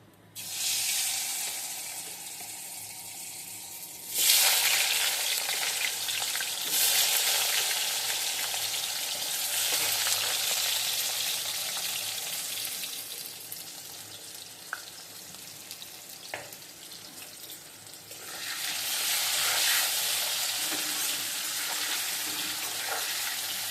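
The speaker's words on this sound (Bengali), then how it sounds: "এখন লবণ দিয়ে হলুদ দিয়ে আলুটা ভেজে নেবো" Steady hissing sizzle of potatoes frying in hot oil with salt and turmeric, loud and close, swelling in bursts when stirred, with no talking.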